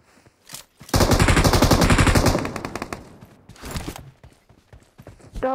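A loud, rapid burst of automatic gunfire in PUBG Mobile lasting over a second, followed by scattered quieter shots and clatter.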